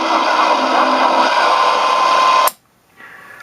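A compressor runs with a steady loud mechanical drone for a few seconds, then cuts off abruptly, leaving near silence and a faint hum.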